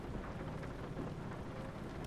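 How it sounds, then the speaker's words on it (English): Steady, soft rain hiss with low rumbling from American Truck Simulator plays evenly throughout, with no voices. "Now it's raining."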